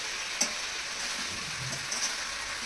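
Potatoes and capsicum cook together in a pan with spices, giving an even, moderately quiet hiss with one brief tap of a utensil early on.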